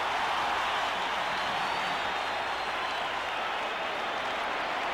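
Roar of a large football stadium crowd at a 1982 New York Giants versus Detroit Lions game reacting to a penalty flag, a broad continuous wash of noise, steady and distant.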